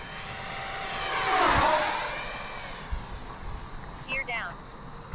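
T-7A model jet with an 80mm electric ducted fan making a fast pass, a high whine that rises as it approaches, peaks loudly, then drops in pitch as it recedes.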